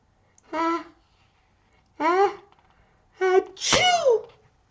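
A reader performs sneezes aloud in a read-aloud of Pigs Make Me Sneeze, four short vocal sneeze sounds in a row with pauses between, the last one longer and rising, loud and close in a quiet room.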